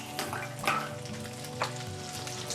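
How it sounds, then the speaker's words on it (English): Meatballs sizzle in a frying pan while being gently stirred, a steady close frying hiss with a few soft scrapes and clicks from the utensil. "I'm gonna gently stir this all together."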